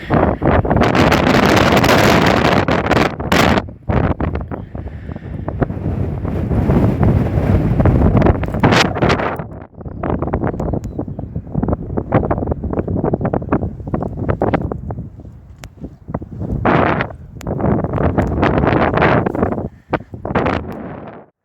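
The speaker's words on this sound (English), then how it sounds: "It's just as windy up here." Strong wind buffets the microphone in loud roaring gusts, dropping briefly between blasts, at Pitstone windmill on an open hilltop during a storm.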